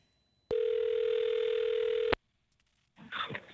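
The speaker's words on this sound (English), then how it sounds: "Answer the phone." A telephone line sounds a single steady tone for about a second and a half during a morning radio call-in show, then cuts off, and after a short gap a voice begins to answer.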